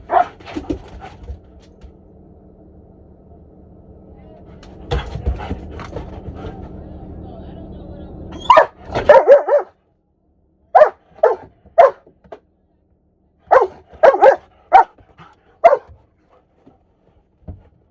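A dog barks in a series of sharp, close barks spaced out in short bursts along a roadside, following a stretch of someone talking over low rumbling background noise.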